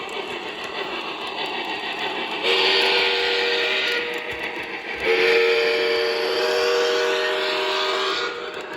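A Lionel 3301 model steam locomotive runs after a rebuild of its smoke unit, a steady whirring rumble punctuated by two sustained whistle blasts, the second longer, close and clear with no talk.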